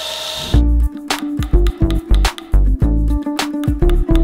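A motorized belt grinder hums steadily with a low whine, broken by repeated bursts of harsh scraping as a metal butter knife blade is pressed against the belt, loud and close.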